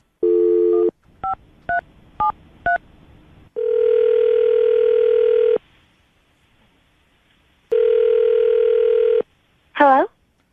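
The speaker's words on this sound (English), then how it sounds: "We're going to call her right now, see if we can get her on the phone" A telephone dial tone and touch-tone dialing for a radio station call: a steady tone, then four quick DTMF beeps, two long dial tones separated by silence, and a brief ringing burst at the end.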